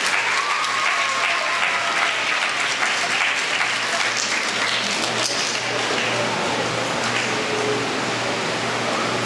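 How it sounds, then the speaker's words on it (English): A school audience at the NGC Sanfest primary preliminaries in Trinidad and Tobago applauds young performers with steady, dense clapping that fills the hall for about nine seconds without a break. "Let us give all of them a round of applause."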